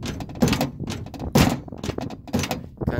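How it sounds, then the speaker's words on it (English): A car door on a barn-find Triumph Spitfire under restoration is shut several times, each close, loud metallic thunk and latch clunk separated by short pauses, with a sticky latch that does not catch easily. "I don't know what the issue is with this door, but it doesn't really want to latch itself."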